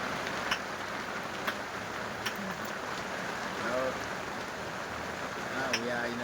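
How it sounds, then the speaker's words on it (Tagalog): Heavy rain pours down steadily as a constant broadband hiss, with a few faint drips and clicks and distant faint voices underneath. "Biglang umulan ng malakas"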